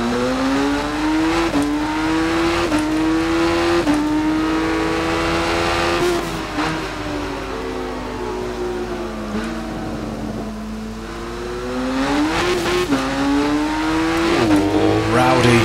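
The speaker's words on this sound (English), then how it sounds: "Does not sound nice at the top end of this bike." A 1998 Yamaha YZF-R7 motorcycle engine in the racing game Ride 5 screams loudly and continuously, its pitch climbing and dipping through repeated gear changes and throttle lifts, with a brief drop in level mid-run before revving hard again.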